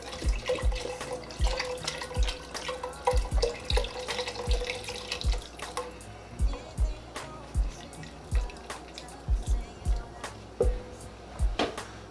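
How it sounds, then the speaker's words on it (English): Beef broth pouring into a pot of beef stew, a continuous close liquid gush with splashing, and a steady run of low thuds underneath, without talk. "we're gonna go ahead and add a little more beef broth"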